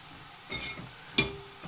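Onions frying gently on low heat for Sri Lankan maasi sambal, with two soft scraping stirs through a quiet, faint background sizzle.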